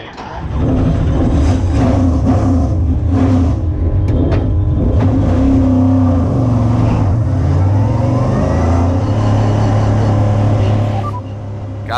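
Race car engines in a motorsport race fire up and rev before the formation lap, loud and continuous, with rising and falling throttle blips layered together throughout, some voices faintly underneath.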